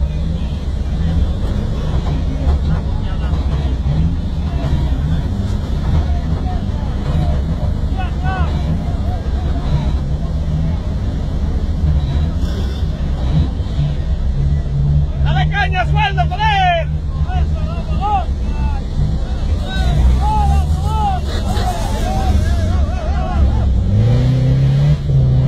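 The engine of a 4x4 off-road vehicle churns loudly and revs during an off-road competition in Couço, Portugal, heard from on board, with voices talking over the engine noise throughout.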